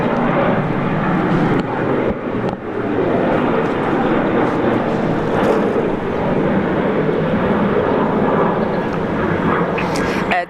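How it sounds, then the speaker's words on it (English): Virgin Australia flight 771 airliner taking off from Brisbane Airport, a loud sustained jet engine roar that holds steady throughout, with a few faint clicks and no talk. "Virgin Australia, the first Virgin flight on the show this morning. Flight 771 off to Cairns."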